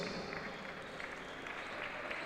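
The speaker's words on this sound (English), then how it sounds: "Here's the applause from the Ateneo crowd." The Ateneo crowd at a college basketball game applauds in a steady, even wash of clapping with no clear peaks, heard at some distance for a couple of seconds.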